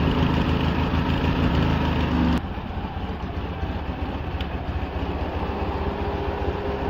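A Polaris 700 engine runs at half choke with a dense, steady drone up close; the level drops noticeably a little over two seconds in, then holds at a slightly quieter, rougher running note.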